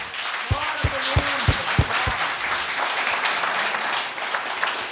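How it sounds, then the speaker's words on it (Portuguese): A church congregation claps together in praise at a worship service, a steady dense round of applause through the whole stretch while a few spoken words rise briefly near the start. "vamos aplaudir o Senhor por isso?"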